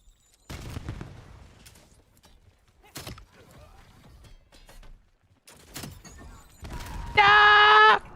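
Gunfire in a first-person shooter video game, with scattered sharp shots and bursts spread across the stretch, ending with a loud sustained tonal game sound.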